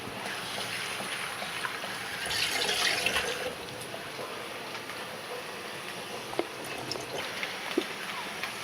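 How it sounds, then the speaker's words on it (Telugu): Curry leaves are rinsed under a running kitchen tap, a steady splashing water stream with brief louder gushes and small clinks, close and continuous. "ఇప్పుడు దీని అయితే వాష్ చేసుకుంటున్నా."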